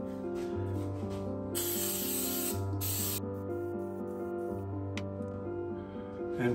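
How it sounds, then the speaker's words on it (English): Cooking spray hisses onto a popover pan in two short bursts, close and crisp, over a steady background hum. "Now spray your popover pan."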